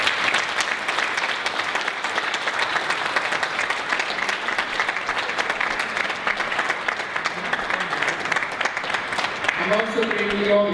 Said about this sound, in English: could you give a really big round of applause to Manoj for these 3 things